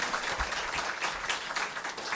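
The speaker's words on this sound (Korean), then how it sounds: "우리 합창단한테 박수 한 번만 더 칩시다." Dense applause for a choir from a church congregation, many hands clapping together in a continuous, even patter for a couple of seconds.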